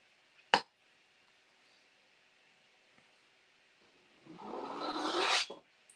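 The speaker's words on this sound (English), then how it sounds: "And then you just scrape off all the excess paint," Palette knife scraping excess paint off a surface, a brief sharp tap, then a rising grating rasp lasting about a second, close and moderately loud in an otherwise quiet room.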